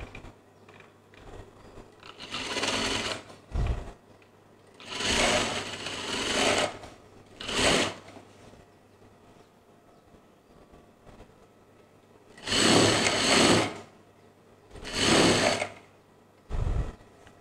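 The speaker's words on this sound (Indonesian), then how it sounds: "Jahit kelim dalam 1/2 inci." Sewing machine stitching a half-inch hem on children's clothing, running in several short bursts of rapid mechanical chatter separated by quiet pauses, close and fairly loud.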